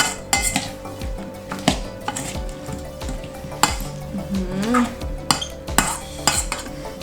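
A Thai salad of pork sausage, fresh shrimp, shallots and culantro is tossed in a bowl, with repeated clinks and scrapes of a utensil against the dish in an uneven rhythm, close and clear, without talk.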